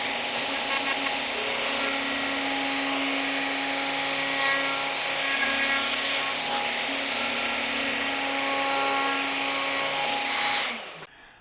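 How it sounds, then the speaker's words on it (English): A router table spinning its bit through wood to cut a guitar fretboard template gives a loud, steady whine with a constant pitch for about ten seconds. It then winds down and stops abruptly. "do whatever the bit feels like it wants to do, and we'll let it cut at the pace that it wants to"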